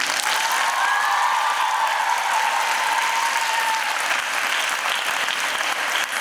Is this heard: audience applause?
yes